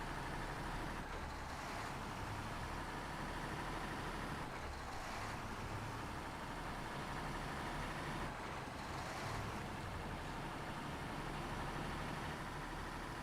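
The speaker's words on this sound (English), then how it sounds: "Not sure I care too much for this one's engine noise, or the gear shift noises for sure" A heavy truck in the SnowRunner off-road driving game idles with a steady low rumble and drone, running continuously at constant loudness, with no clear gear shift standing out.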